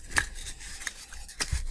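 Hobby scissors snipping through a cardboard strip, giving two or three sharp, close cutting snaps spread over a couple of seconds, with no talking.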